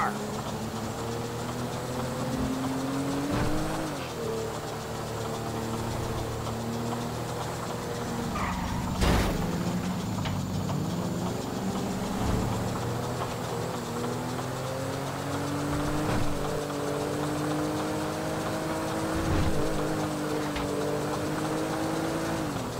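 A car drives in Grand Theft Auto V with a steady engine drone and shifting revs. Rising and falling tones mark gear changes, and a few brief knocks and bumps sound over continuous road noise.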